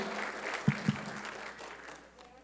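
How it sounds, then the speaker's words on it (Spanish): A church congregation gives a short round of applause during a Spanish-language service: a soft, fairly distant wash of clapping with a couple of louder claps near the middle, fading out toward the end. "Le damos una ofrenda de palmas al Señor."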